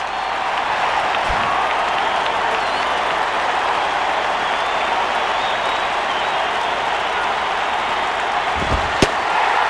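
A stadium crowd in the baseball video game MLB 08: The Show keeps up a steady, dense roar of cheering and murmur, with a couple of sharp knocks near the start and end.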